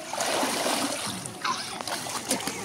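Pond water splashes and trickles as a child dunks, with soft sloshing and a few brighter splashes close by, continuous and moderately loud.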